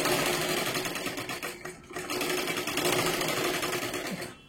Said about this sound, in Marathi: अजून एकदा घ्या त्याच्यावरती शिलाई, जेणेकरून ते पूर्ण व्यवस्थित पॅक होऊन जाईल